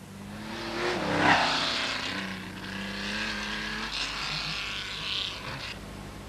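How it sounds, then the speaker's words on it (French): Rally cars including an Audi Quattro and a Nissan racing at the 1983 Boucles de Spa, a loud nearby engine roar rising then holding a sustained droning pitch, with a commentator's voice faintly underneath. "augmente sa vitesse et passe la Nissan de Dumont"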